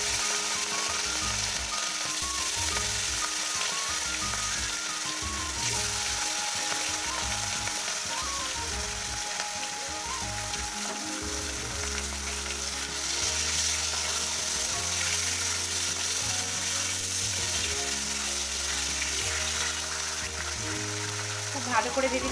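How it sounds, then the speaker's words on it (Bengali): Rohu fish pieces fry in hot oil with a loud, steady sizzle that runs unbroken throughout, with background music underneath. "তেলটা বেশ গরম হয়ে গেছে। এবার আমি এক এক করে মাছগুলো ভেজে নেব।"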